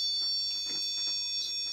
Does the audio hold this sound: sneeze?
no